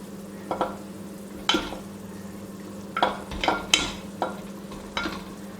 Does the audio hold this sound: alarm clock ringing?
no